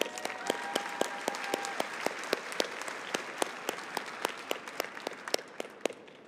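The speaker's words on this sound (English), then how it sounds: "One more round of applause." A high school graduation ceremony crowd applauds steadily, with many sharp individual claps standing out above a dense wash of clapping that keeps going throughout.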